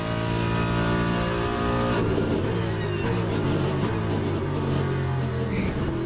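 Race car engine in Le Mans Ultimate with traction control cutting in, a steady loud high-revving drone with layered harmonics that stutters and flickers as the system intervenes, alone without talk.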